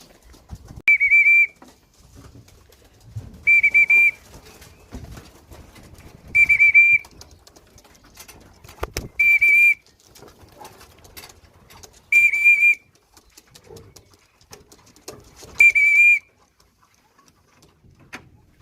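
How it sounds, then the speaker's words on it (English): A pigeon whistle blows six times in regular, short bursts, each sustained tone about a second long with pauses between, as racing pigeons are called into the loft trap; faint fluttering and shuffling sounds continue underneath. "we're just going to open it up at the trap and whistle them in"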